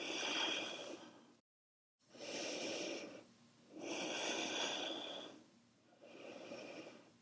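Deep, slow breaths during a yoga flow's downward dog pose: four long, airy inhales and exhales in a steady rhythm, close and clear, with a brief silent gap between the first two and no talking.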